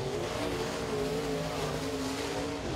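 A race car crosses the stripe during qualifying at a Duck River dirt track, its engine a steady mid-pitched roar, held at moderate distance without pause.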